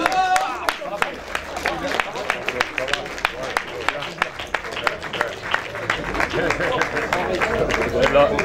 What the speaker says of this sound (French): peut les applaudir, s'il vous plaît